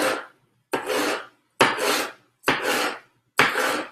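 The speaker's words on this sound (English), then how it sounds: "So I'm just cutting them into these little slices now." Peppers being sliced on a cutting board in five evenly spaced, rasping strokes, each a close, dry cut of under a second followed by a short silence.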